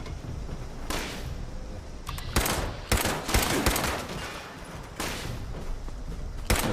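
Pipe pistol gunfire in Fallout 76, during the Wastelanders quest with Duchess, Mort and the Wayward Souls: a string of sharp, loud shots in uneven bursts over a steady background of game ambience and combat noise.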